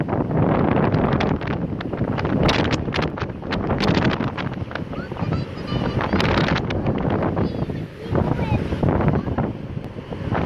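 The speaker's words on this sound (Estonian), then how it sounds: "Tuul on siin väe otsas." Strong wind on a pier at Puerto Plata buffets the microphone in loud, continuous gusts, with boat and surf noise mixed into the roar and brief dips between blasts.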